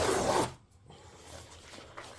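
An Amazon package being opened, a short loud tearing rip of packaging followed by quieter rustling and scraping close by.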